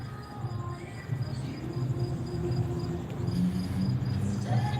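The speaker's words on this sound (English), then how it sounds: "Yeah, we got some loud crickets tonight." A steady high chirping of crickets fills the night air in Las Vegas, fairly loud and continuous, with faint background hum beneath it.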